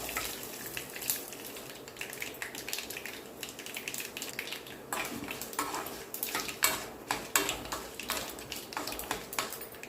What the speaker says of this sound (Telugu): తాలింపు అంతా వేగింది